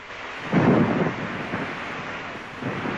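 Heavy rain with a low rumble of thunder swelling early on, a broad steady roar that stays up close and loud throughout.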